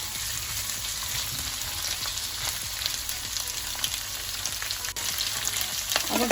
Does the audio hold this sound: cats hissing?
no